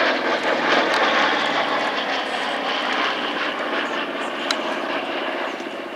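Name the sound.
B-47 aircraft flying past at airshow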